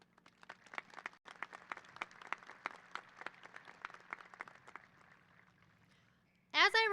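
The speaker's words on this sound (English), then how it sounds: "I think we deserve a round of applause." Scattered, fairly sparse clapping from a high school graduation audience rises and thins out over several seconds, fading to near quiet before a brief loud burst of voice at the end.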